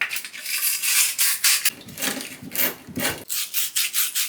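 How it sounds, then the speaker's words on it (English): Copper pipe fittings being scrubbed clean at their ends before flux and soldering for a shower valve install, giving close, steady rasping strokes in a quick back-and-forth rhythm with no talking. "you always need to clean up your copper fittings on the ends of them so you can solder onto it"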